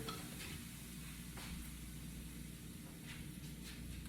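Butter sizzling in a hot pan while cooking steak, a soft steady crackling hiss with a few brief louder spits, continuous at close range.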